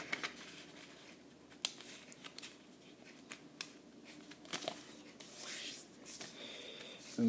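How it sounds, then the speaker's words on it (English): Paper being creased and folded by hand while making an origami lidded box, with soft rustles, scrapes and light taps, close and quiet. "And you're going to take the other side and fold it in."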